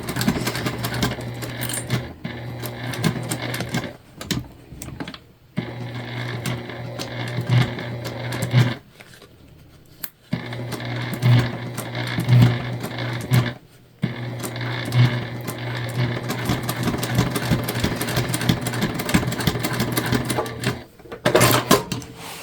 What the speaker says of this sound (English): And we're gonna backstitch really well.